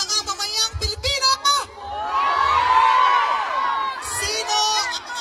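A large crowd of Filipinos at an outdoor gathering in Europe roars and shouts together for a couple of seconds, loud and sustained, framed by someone speaking into a microphone before and after.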